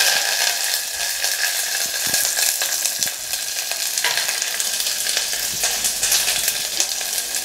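Shallots, green chillies, dried red chillies and curry leaves sizzle and fry steadily in hot oil, with occasional spatula scrapes against the pan; no talking.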